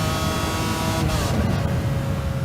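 Lamborghini Aventador SVJ Roadster, the Nurburgring North Loop record holder, with its engine droning loud and steady throughout, a brief surge partway through.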